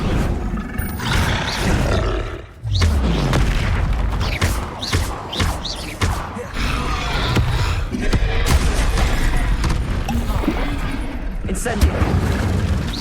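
Incendio and Confringo spell blasts in the video game Hogwarts Legacy burst out as loud, rapid roaring explosions with booming impacts, continuous across the fight, with a voice shouting over them.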